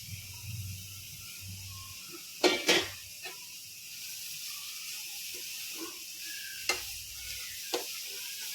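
Carrot halwa fries in ghee in a pan with a faint, low sizzle. A few sharp scraping stirs land at irregular moments over the quiet hiss, and no one talks.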